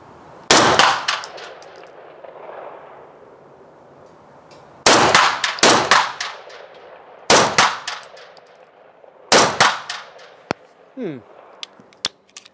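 A Sterling Mk.6 closed-bolt submachine gun fired outdoors in four separate loud, sharp bursts of a few rapid shots each, with metallic ringing tails and quiet gaps between.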